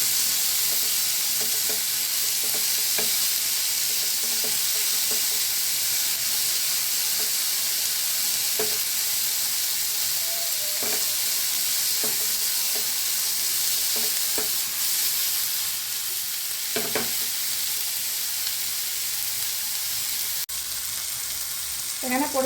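Chopped green chilies and tomato stir-fry for an egg bhuna, giving a constant loud sizzle. Repeated spatula scrapes and clicks come every second or two while the pan hisses on steadily.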